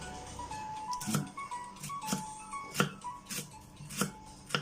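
A knife slices boiled eggs on a cutting board, making about six or seven close, sharp chopping knocks at an uneven, unhurried rhythm over faint background noise.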